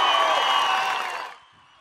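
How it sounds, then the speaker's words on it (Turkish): A large crowd at a 30 August Victory Day celebration in Istanbul cheers and applauds in a dense, roaring wash that fades away after about a second and a half. "Buradan sultanları alkışlayalım mı?"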